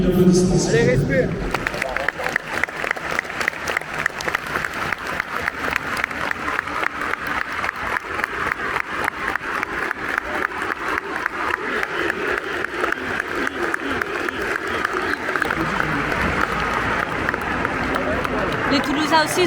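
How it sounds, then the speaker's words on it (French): A stadium crowd at an RC Lens football match applauds for a sustained minute, a dense, continuous wall of clapping with crowd murmur mixed in, heavy and unbroken. "En respectant une minute d'applaudissement."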